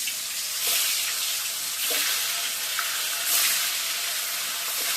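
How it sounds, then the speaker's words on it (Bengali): Fish rubbed with salt and turmeric sizzle as they go into hot oil in a wok, a steady loud hiss with small surging crackles throughout and no talk. "তেলটা গরম হয়ে গেছে, এবার মাছগুলো ছেড়ে দিই"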